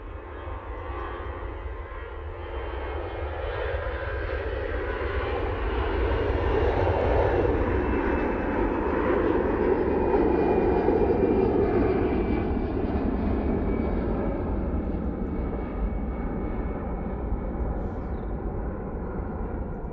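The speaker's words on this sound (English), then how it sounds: "EasyJet off to Geneva now using their A320-200." An EasyJet Airbus A320-200 airliner departing Manchester Airport, a long, loud jet engine roar that swells as the aircraft nears, peaks, then holds with a broad rumbling hiss, heard from outside at the airfield.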